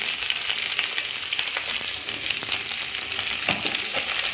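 A curry frying in a pan gives a steady, close sizzle, broad hiss with faint stirring clicks and scrapes running through, no voices.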